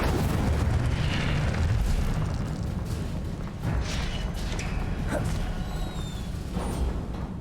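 The Incendio fire spell is cast in the Hogwarts Legacy video game, producing loud, dense, roaring bursts that blaze on continuously with a few sharper flare-ups and no speech.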